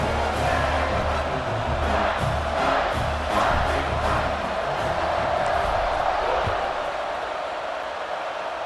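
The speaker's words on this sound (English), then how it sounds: "this crowd is feeling themselves after that last drive" A stadium crowd roars and cheers in a college football video game, Iowa against Michigan State, as a continuous loud wash of massed voices that fades slightly toward the end.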